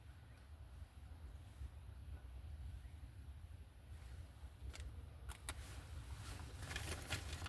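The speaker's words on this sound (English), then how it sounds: "it's windy and rainy" Steady wind roars and buffets across the microphone as a low, continuous rumble in windy, rainy weather, with a few faint clicks near the end.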